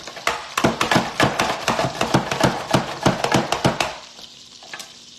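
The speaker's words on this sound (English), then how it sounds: "snap the chute in place, and now I can just slice my onion." Food processor with a slicing chute cuts an onion: a rapid run of sharp, close chopping clicks and whirring thumps in quick rhythm for about four seconds, then the slicing stops and only a faint low hum remains.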